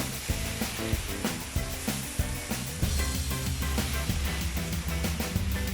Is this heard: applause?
no